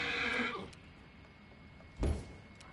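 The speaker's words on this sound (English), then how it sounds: "Again, it's just a horse" A horse in the fantasy role-playing game Pathfinder: Wrath of the Righteous gives a loud whinny at the start, then a brief snort or thud follows after a quiet pause, with no one talking.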